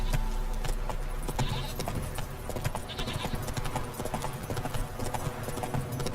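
Roach the horse clip-clopping in The Witcher 3, with steady, close hoofbeats and ambient game sound in the background.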